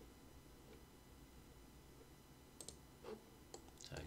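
Computer mouse clicks during work in CAD software, a few sharp close clicks in quick pairs toward the end over quiet room hiss.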